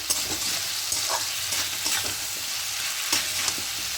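Poppy seed paste with cauliflower and potato frying in a pan, a steady bright sizzle throughout with soft, irregular stirring scrapes and taps layered over it, no voices.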